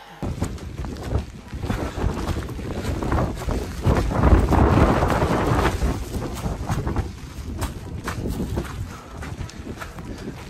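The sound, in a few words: strong wind on Ben Nevis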